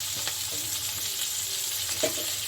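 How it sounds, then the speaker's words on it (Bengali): Onion and potatoes fry together in oil in a pan, a continuous close sizzle with soft stirring scrapes and a light clink near the end. "এটা একসঙ্গে আমি এটার সঙ্গে আলুর সঙ্গে ভেজে নেব"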